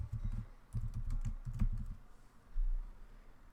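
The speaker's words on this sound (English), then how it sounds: "We're just going to type our client name, John Doe." Close, crisp typing on a computer keyboard as a client name is entered into construction management software, quick bursts of keystrokes followed by a short pause and a few heavier final taps.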